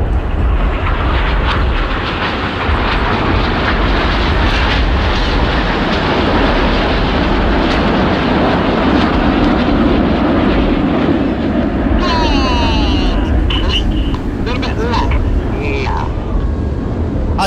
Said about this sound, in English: 4 and 5 smoke blue as they barrel roll round 2 and 3 in one of the hardest manoeuvres for our new pilots each year to master.